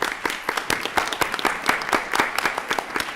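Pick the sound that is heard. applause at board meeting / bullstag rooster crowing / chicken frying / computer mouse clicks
applause at board meeting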